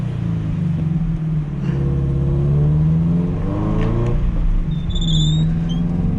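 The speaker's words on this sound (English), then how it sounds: "we are going to take the BRZ out for some first laps on the new Dureza Z3s." Subaru BRZ on Dureza Z3 tires lapping a race track, its engine droning loud and close with rising and falling revs, a steady low rumble with harmonic sweeps as it accelerates and shifts, and a brief tire squeal near the end.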